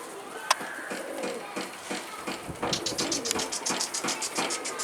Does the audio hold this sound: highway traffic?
no